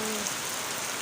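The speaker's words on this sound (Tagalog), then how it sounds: "Ulan pa, kusog ko paayo." Heavy rain pours steadily in a rural province during stormy, windy weather, a dense continuous hiss of drops hitting surfaces close by, with no voices.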